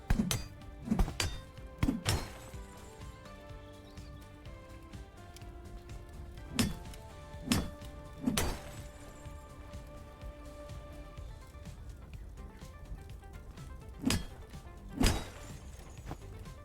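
An axe whacks enemies in a video game: heavy, sharp thunking blows land in irregular clusters, some in quick doubles, over a low steady game ambience.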